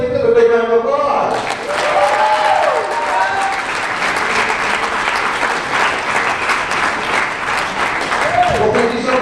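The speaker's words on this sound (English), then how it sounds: "give them a big round of applause" A crowd claps loudly for volunteers at a grad night hypnosis show, with sustained, dense applause from start to finish while a voice speaks over it through a microphone.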